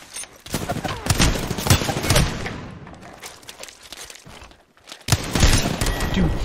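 Repeated gunfire in a video game with Pathfinder on the field, loud bursts of shots broken by a short lull around the fifth second before firing resumes.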